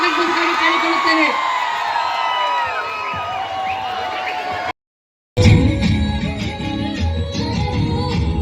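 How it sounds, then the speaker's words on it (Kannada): A crowd at a college day cultural program cheers and whoops loudly for several seconds, with a brief cut to silence before the noisy crowd resumes. "ಜೋರಾದ ಚಪ್ಪಾಳೆಯ ಮೂಲಕ ಅವರನ್ನು ವೇದಿಕೆಗೆ ಸ್ವಾಗತಿಸಬೇಕಾಗಿ ಕೇಳಿಕೊಳ್ಳುತ್ತೇನೆ"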